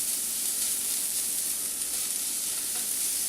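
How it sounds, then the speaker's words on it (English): Garlic sizzles in a pot with vegetables for clam chowder, a steady, close frying crackle that carries on evenly with no talking. "So we're going to add our garlic now, because you just want to add that maybe for a minute to cook that down"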